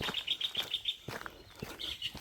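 Small birds chirp and tweet along a canal-side walk near Top Locks and Aspull, Wigan, a quick run of high twittering notes followed by a few scattered calls, fairly faint and without any talk.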